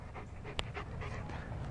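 A German Shepherd pants quickly and steadily at close range, with a rhythmic breathy huff and one sharp click partway through, and no voices over it.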